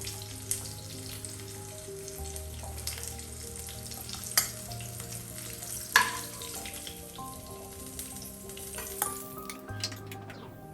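Green chilli pieces frying in hot oil after dried fish has been fried in it, with a continuous close sizzle and occasional stirring clinks, without any talking.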